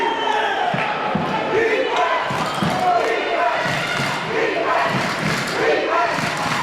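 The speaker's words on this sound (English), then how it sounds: "McDonough fan base starting the defensive cheer." A basketball crowd at a high school conference championship final chants a rhythmic defensive cheer, loud and continuous, with repeated thumps and shouts rising throughout.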